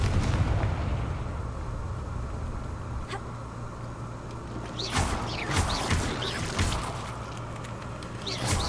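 Confringo fire spell blasts in the Hogwarts Legacy video game, booming explosions with crackling debris against a steady low rumble, a couple of heavier hits arriving in the second half.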